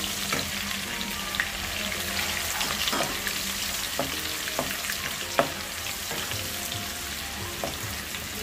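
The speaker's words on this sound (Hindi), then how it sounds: "यहाँ पे मैं एक डल्ली प्याज के लिए हूँ प्याज तल लेंगे" Onions fry in hot oil in a pan for veg biryani, a steady dense sizzle with occasional sharp clicks and scrapes of stirring, close up with no talking.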